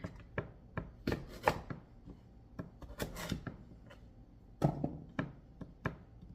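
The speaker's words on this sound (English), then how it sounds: "I'm going to cut it in smaller pieces because, again, I want it to cook quickly" A knife chops sweet potato into smaller pieces on a cutting board, with a run of close, sharp, irregular thuds and a few scraping strokes, no talking.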